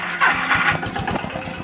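A farm tractor's engine runs nearby, a rough mechanical chugging with a brief louder surge near the start before settling into a steady throb.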